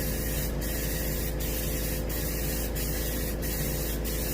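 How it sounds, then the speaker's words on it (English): A small airbrush sprays paint onto a fish mount of a striper or rockfish. The hiss is close and continuous, with about six brief, evenly spaced bursts or clicks and no talking. "It takes a while with a small airbrush."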